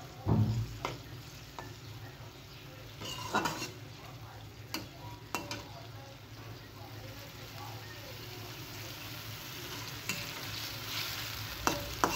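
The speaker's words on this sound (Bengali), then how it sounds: "মাছটাকে আমি ভালোভাবে কষিয়ে নিচ্ছি।" Fish fries in a pan with a quiet, continuous sizzle, and a utensil scrapes and taps against it at intervals as the pieces are stirred.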